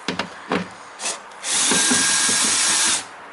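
An electric Phillips screwdriver backs out screws from a car door speaker mount. A few short taps and clicks are followed by a steady, loud motor whir lasting about a second and a half, close to the microphone.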